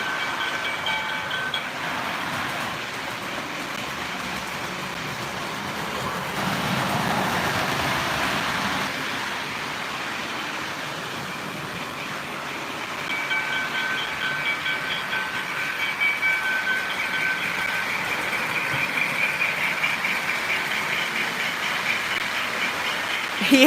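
An O gauge model New Haven FA diesel set runs on a layout, its steady rolling rumble and clickety-clack of wheels over track joints continuing close and fairly loud, with a brief faint horn-like tone.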